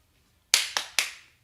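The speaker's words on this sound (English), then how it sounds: "Clap, clap, clap." Three sharp hand claps in quick succession after a short silence, close and crisp, each with a brief room echo fading behind it.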